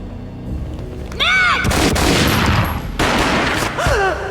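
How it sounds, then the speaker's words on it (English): Gunfire from the video game Max Payne, two loud booming shots about two seconds apart, each with a long rough tail, close and heavy against a quieter tonal game score. "A gunshot boomed and she fell down in slow motion."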